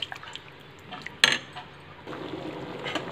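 A utensil stirs rice in a cooking pot, giving wet sloshing scrapes and one sharp metallic clink, followed by a steadier bubbling simmer; no voices are heard.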